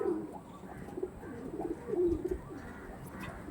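Domestic pigeons of a bred fancy line coo in soft, repeated low rolling calls close by, with faint chirps and light shuffling in the background.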